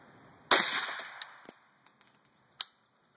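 A 300 Blackout rifle with a 16-inch barrel fires one 125-grain bucktail hollow point factory load, giving a single sharp, loud report with a short decaying tail, followed by faint clicks and a smaller distant echo crack.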